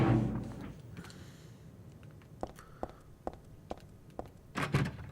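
A locked door rattles in Silent Hill 3 on the PS2, a series of short sharp knocks spread over a few seconds, with a louder clatter near the end over a low hum.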